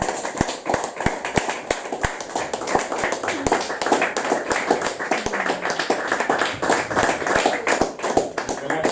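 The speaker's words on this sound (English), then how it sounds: "So more applause, please, for a great evening." An audience at a live performance by Eve Pearce claps in a steady, fairly close round of applause, brisk and even, with a few voices faintly underneath.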